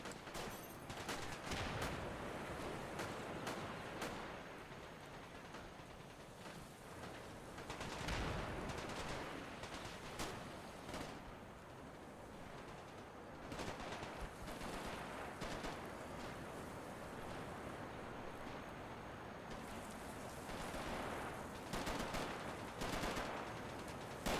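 Sustained SMG and machine-gun fire from a modded real-time strategy game tournament match, rapid bursts stacking into dense, continuous gunfire with heavier booming volleys, loud throughout and no talking.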